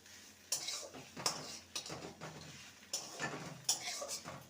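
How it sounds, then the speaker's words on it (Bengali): A spoon stirs beto greens with toasted poppy seeds in a pan, producing repeated scraping clinks against the metal at an irregular rhythm, close and fairly soft, with no voices. "পোস্ত দিয়ে দু মিনিট নেড়ে নিয়েছি"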